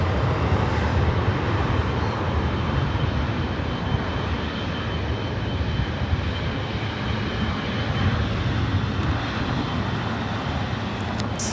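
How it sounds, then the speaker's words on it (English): A three-year-old British Airways Boeing 777-300ER departing for London Heathrow roars steadily at close range, the deep jet rumble sustained with no speech. "British Airways Flight 282 heading back to London Heathrow in this 3-year-old 777-300ER."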